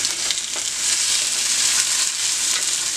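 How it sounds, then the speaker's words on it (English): A whole onion, cut into big pieces, sautéing in a pan for Bajan stew, giving a steady broadband sizzle, close and even throughout with no talking. "just saute this here for a few minutes"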